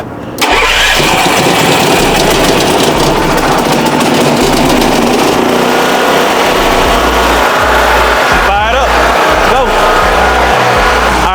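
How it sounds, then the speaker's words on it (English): Generator on a mobile barber truck, choked and started up close: it catches loudly right away and runs at a steady roar, settling into a lower idle near the end. "we got the generator fired up"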